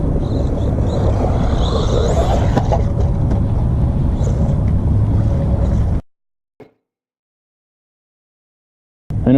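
A small RC car with a tiny $7 electric motor runs loud and close, a dense buzzing roar for about six seconds before cutting out to silence, broken only by one brief click and a final burst at the end.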